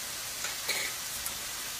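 Steady, soft sizzling of chicken frying in a pan, a continuous hiss with a few faint pops and crackles, no talking.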